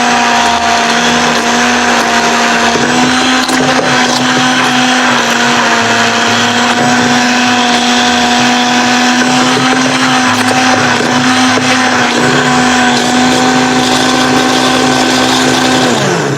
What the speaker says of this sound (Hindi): अब हम इसको वापस 1-2 मिनट फेंटेंगे।